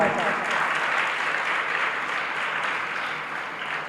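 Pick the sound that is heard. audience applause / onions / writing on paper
audience applause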